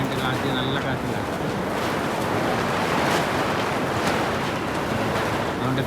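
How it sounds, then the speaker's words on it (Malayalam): Strong wind sweeping across an outdoor family gathering near a stage, a steady broadband rush with gusty swells buffeting the microphone, while people speak faintly beneath it. "കാറ്റ് നല്ല കാറ്റിലാണ്."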